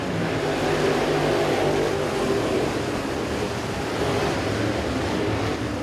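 Stock race cars at Southern Raceway roar on the track during a green-flag restart in the Southern 100 feature, a loud, continuous wall of engine noise with layered revving from several cars and no voices.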